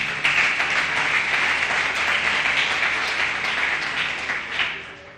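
Church congregation applauding together, a dense, steady wash of many hands clapping at moderate loudness for several seconds, swelling slightly near the end, with no voices over it.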